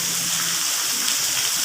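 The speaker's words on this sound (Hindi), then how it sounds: "पिशावर में बहुत ही बारिश आ रही है" Heavy rain falls in Peshawar as a dense, continuous hiss and patter with no breaks, loud and close throughout, with no voices.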